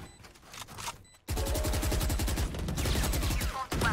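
Phantom rifle fire in Valorant, a rapid automatic burst of close, loud shots rattling for over two seconds after a quieter lead-in, with a brief pause and another short burst.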